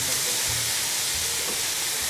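A roux of melted butter and flour cooks in a pan, giving off a steady, close sizzling hiss with no break.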